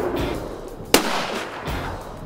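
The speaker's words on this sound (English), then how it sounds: "get the guns out, and start banging away" A single sharp gunshot cracks out at an outdoor ranch shooting range, loud and close, followed by a brief echoing tail and quiet outdoor ambience.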